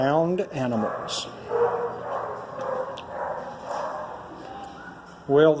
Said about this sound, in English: They've been barking at me, so maybe they are complaining.